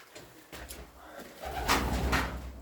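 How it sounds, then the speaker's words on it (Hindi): Pigeon cooing nearby indoors in an old room, with soft low coos and a few bursts of flapping wings, fairly close and moderately loud. "अभी कबूतर ने टक्कर मार दी मेरी"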